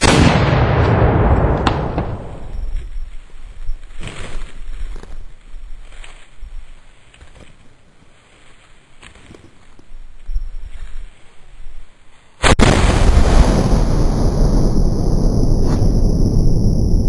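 A 6-pounder French howitzer fires a 6-pound ball with a heavy blast near the start, leaving a long fading rumble. A second loud boom erupts near the end and stays roaring, both close and powerful.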